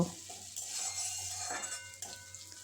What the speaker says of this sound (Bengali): একটা পেঁয়াজ কুচিয়ে নিয়েছি সেই পেঁয়াজটা দিয়ে দেব পেঁয়াজগুলো আমি লাল লাল করে ভেজে নেব